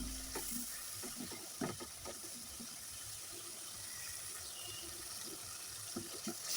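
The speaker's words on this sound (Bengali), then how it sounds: "তো মশলাটাকে ভালো করে কষিয়ে নেব আমি" Spice paste with ground chili, coriander and turmeric being stir-fried in oil for a tilapia curry with flat beans and potato. A faint, steady sizzle runs throughout, broken by scattered light utensil scrapes.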